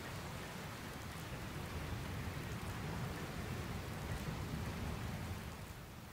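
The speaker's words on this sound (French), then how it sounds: "On dirait qu'une nouvelle tempête approche." Steady rain from an approaching storm in Dragon Quest Builders 2 pours down as a dense, even hiss, heavy and close throughout, with no clear thunderclap standing out.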